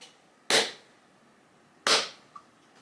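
Two sharp shotgun blasts at clay targets thrown from remote-controlled traps set up as a simultaneous pair, each a loud crack with a short decaying tail, spaced about one and a half seconds apart outdoors.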